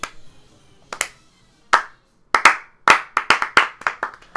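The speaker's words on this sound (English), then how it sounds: "Slow clap." Single person's hands give a slow clap, a few sharp, close claps spaced apart that then speed into a quicker uneven run, with no talk over them.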